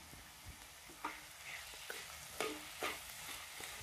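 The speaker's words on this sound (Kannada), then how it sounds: "ಬೆಲ್ಲ ಹಾಕಿ ಅದನ್ನು ಕಂಪ್ಲೀಟಾಗಿ ಇದ್ರ ಜೊತೆ ಮಿಕ್ಸ್ ಮಾಡಿರಿ." Jaggery is stirred into a pumpkin mixture in a pan, giving soft scraping strokes and a few spoon taps over a faint, quiet sizzle, with no speech.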